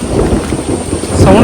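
Outdoors in the Araku hills in the wild, heavy rain pours down with a deep thunder rumble underneath, a loud, dense and continuous wash of noise throughout.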